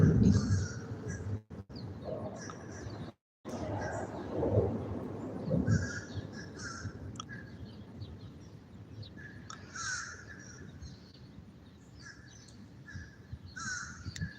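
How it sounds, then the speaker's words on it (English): Several crows caw outdoors in repeated bursts, some close and loud, others farther off, over a steady background murmur with a few brief dropouts. "Y'all hear my crow buddy saying goodbye?"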